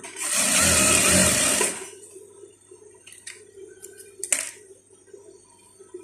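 A sewing machine runs in a loud continuous burst while stitching a curved trouser seam, then stops, leaving quiet low hum and a few small clicks and handling sounds.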